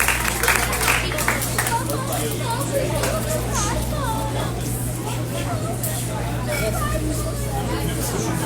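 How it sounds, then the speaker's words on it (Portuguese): A children's church group claps along amid lively crowd noise and chatter, with kids' voices and babble mixed in over a steady low hum from the room. "Vamos dar uma salva de palmas para o Senhor?"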